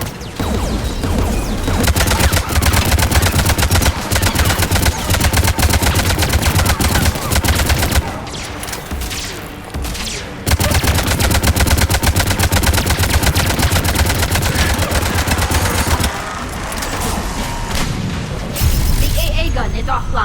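Mass Effect 3 combat erupts with dense gunfire: sustained automatic bursts and heavy booms, loud and nearly continuous, with two short lulls. Voices call out over the shooting.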